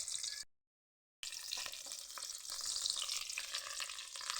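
Chopped ginger and garlic fry in hot oil in a pan for a chicken dish, a close crackling sizzle with small spits. It cuts out briefly, then resumes steadily.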